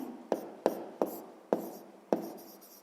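A pen writes by hand on paper during a sixth-grade math exercise, making five crisp, close taps and strokes in an uneven rhythm, each with a short, dry scratch and no voice over them.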